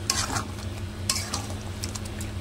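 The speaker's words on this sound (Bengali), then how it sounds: "ব্রেস্তা দিয়ে কিছুক্ষণ একটু কষিয়ে নেবো" Chicken mughlai sautéing with fried onions (beresta) in a pan, a soft steady sizzle under a low hum, broken by a few scraping stirs of the spoon.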